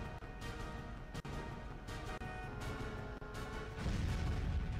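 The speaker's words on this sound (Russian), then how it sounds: "Вот это взрыв, вот это боевик, вот это да." A loud, dense cartoon explosion blast and rumble with crashing debris, swelling further near the end, played over a busy music-like background.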